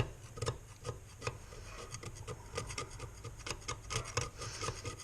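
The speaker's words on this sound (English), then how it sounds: "Just don't get too aggressive with the scraper. Don't want to damage the piston." A scraper chips and rubs carbon build-up off a Jaguar MKII piston, a quiet, steady run of short scratchy strokes and taps, close up and faint, with no talking.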